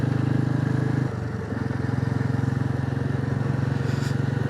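A Royal Enfield Classic 350 motorcycle thrums steadily while riding on a country road, its loud single-cylinder pulse briefly dipping before resuming an even, close engine drone.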